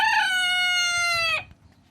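A single full rooster crow from a backyard coop rings out loud and close for about a second and a half, a long, richly harmonic call that cuts off abruptly, leaving faint low background noise.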